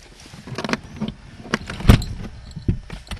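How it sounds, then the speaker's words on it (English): Small airplane door pulled shut and latched from inside the cockpit, with several short mechanical clunks and clicks, one loud thump near the middle, heard close up. "Make sure the door is closed."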